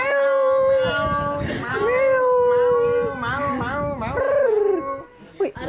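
A dog howls in a roleplay video game, long wavering tonal wails rising and falling over about five seconds, fairly loud and mixed with other game sounds, ending in a couple of short yips.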